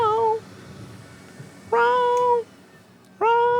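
A person imitates a cat meowing, producing three drawn-out, nasal meows with rising then falling pitch, each separated by a second or so of quiet room tone, close and loud.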